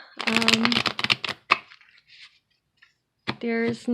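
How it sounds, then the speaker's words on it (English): Tarot cards riffled in bursts of dense, crisp flutters, with a short pause of near silence between the shuffles before a final burst. "One more shuffle"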